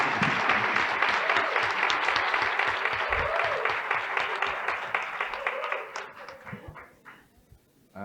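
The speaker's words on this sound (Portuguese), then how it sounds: "Palmas." An audience at a bar association council session claps after a candidate's speech, a loud, even burst of many hands that thins out and fades away toward the end.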